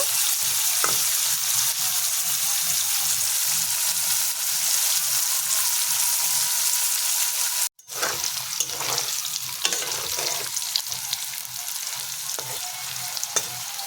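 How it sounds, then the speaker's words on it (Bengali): Teasel gourd (kakrol) pieces fry in a pan of oil for a vegetarian dish, giving a steady close sizzle and crackle with stirring scrapes and one brief break partway through. "হালকা আছে লাল লাল করে ভেজে নেব।"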